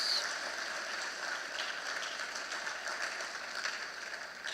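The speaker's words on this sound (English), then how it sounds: "So let's give them all a round of applause." An audience at a thanksgiving service honouring police officers applauds with continuous, fairly faint clapping that holds evenly throughout.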